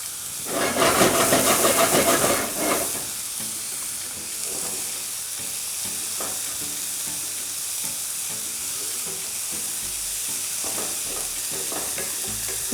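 Vegan shepherd's pie filling cooks on high heat in a pan, opening with a loud, harsh hiss and sizzle for a couple of seconds, then settling into a steady, close frying crackle.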